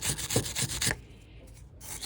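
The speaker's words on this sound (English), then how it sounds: "I'm gonna clean this bolt so we have a good connection to the frame." A rusty car horn bolt is scrubbed clean with short, rhythmic rasping strokes, about four quick rubs followed by a quieter scraping tail, close up and without speech.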